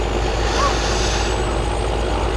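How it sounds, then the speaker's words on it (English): A tractor engine runs steadily in Farming Simulator 2015, a continuous low idling rumble with no change in pitch, close and fairly loud throughout. "I think I'll drive this tractor from the outside."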